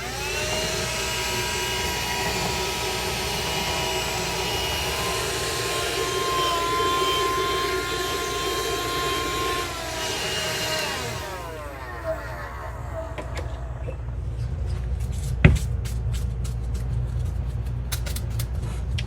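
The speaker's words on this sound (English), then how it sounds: "I'm going to get my vacuum. The Dust Buster." A Dust Buster handheld vacuum runs close with a loud, steady whining roar used for cleaning a guitar, then winds down, leaving faint clicks and handling noises afterward.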